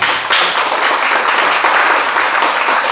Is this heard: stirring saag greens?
no